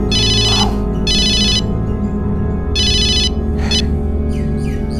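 Mobile phone ringtone ringing indoors in repeated bright electronic bursts, loud and close over a steady low background hum, with no talking.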